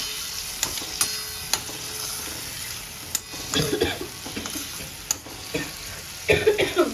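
Gunda sambharo cooks uncovered in a pan with a steady soft sizzle, broken by sharp clicks and scraping stirs, with a busier burst of frying and stirring near the end; no talk.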